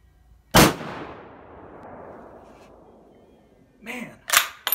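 A Mannlicher M1895/30 rifle firing German-marked 1938 8x56mmR ammunition: one loud, sharp shot with a long fading echo, then bolt-cycling clacks and a second blast close to the end.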